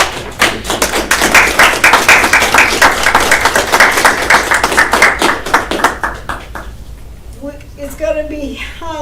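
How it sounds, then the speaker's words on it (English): Clapping and applause for a school board at a board of education meeting, brisk and close, rising then thinning out over several seconds before a voice speaks at the end. "we gotta give a big applause to the board"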